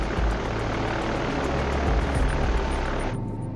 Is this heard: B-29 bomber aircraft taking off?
yes